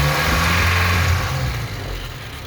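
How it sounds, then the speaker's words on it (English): A 1956 Ford Anglia 100E with misfiring spark plugs revs its small engine close by, a loud rough mid-pitched drone that rises and then eases back toward idle. "look at that little engine."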